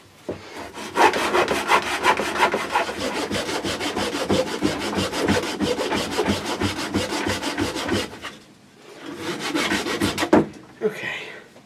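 A hand saw cuts through wood for a guitar body mould in steady, rapid back-and-forth strokes, loud and close, pausing briefly near the end before a short final burst of sawing.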